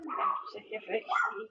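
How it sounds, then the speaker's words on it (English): A dog barks and whimpers inside a house at night, several short yips and whines under a woman's slurred speech and other voices. "you can hear her dog barking inside her house as she slurs her words"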